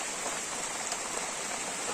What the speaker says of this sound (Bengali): এপাশে বৃষ্টি পড়তেছে